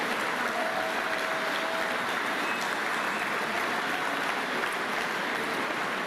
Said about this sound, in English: Let's give all of our Norton Shores police officers a round of applause